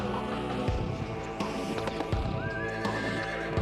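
Horse neighing and galloping in the video game Shin Megami Tensei Nocturne, a whinny over quick rhythmic hoof clip-clops, loud and close amid game sounds.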